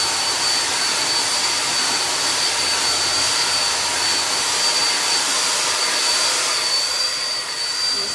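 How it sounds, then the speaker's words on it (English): A hair dryer blows with a steady, loud whooshing roar and a thin high whine while being run through natural hair, unbroken from start to finish. "Take the blow dryer, run it through just to stretch it out some."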